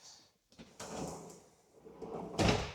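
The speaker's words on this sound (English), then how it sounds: "Soft closed drawers" A soft-close drawer in a cabin slides shut with a muted rolling rush that eases in gently, followed by a soft final thud, heard close with no talking.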